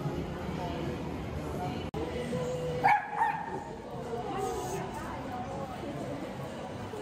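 A dog barks a couple of short times behind an empty mall in Italy, brief and somewhat distant, with people talking over a steady background hum.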